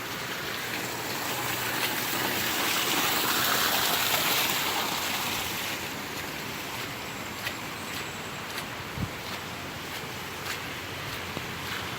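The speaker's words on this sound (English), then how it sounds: "I can hear the creek is just beyond those trees, beyond the road there, over in the trees" A mountain creek running high in flood country, heard from beyond a road and a line of trees as a steady broadband rush of water, fairly even throughout with a slight swell early on.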